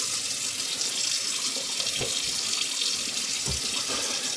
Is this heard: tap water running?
yes